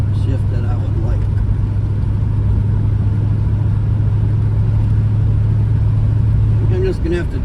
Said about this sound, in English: A slow shift to second, like, not a crisp shift that I would like.